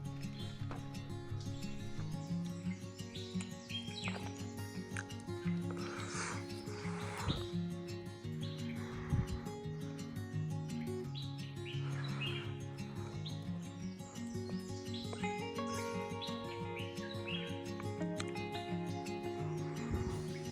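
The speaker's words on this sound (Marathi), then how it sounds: "जो पक्ष्यांचा आवाज येतो ना जंगलामधल्या" Dense, continuous birdsong with many overlapping chirps and calls in a quiet forest near a Ganesh temple at Bhimashankar, a lively chorus that stays steady throughout with no talking.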